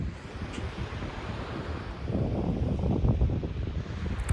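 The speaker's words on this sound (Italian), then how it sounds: "Questa natura, questo silenzio, il rumore del mare" Sea waves wash onto the shore in a soft, steady surge that swells a little midway, mixed with wind noise across the microphone, faint and unaccompanied by voices.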